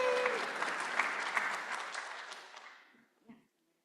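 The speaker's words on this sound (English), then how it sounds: "Give a big round of applause." An audience at a school board meeting bursts into applause. The clapping is dense and steady, then fades out over about three seconds, with a brief vocal cheer at the end.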